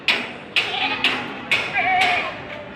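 Goats at a goat market, with a wavering bleat standing out from a busy, noisy crowd backdrop punctuated by several sharp thumps and knocks at regular intervals.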